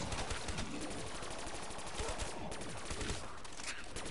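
Dense gunfire from the video game Black Ops 3 Zombies, with rapid continuous shots forming a steady rattling barrage throughout at a fairly low level.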